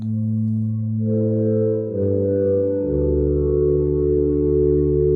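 A sustained synthesizer drone holds low layered tones that step down in pitch a few times, smooth and unbroken, with no voices.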